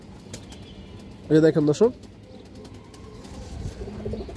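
A Giribaz high-flyer pigeon gives a short burst of cooing, close and fairly loud, over low room noise, with someone talking briefly nearby.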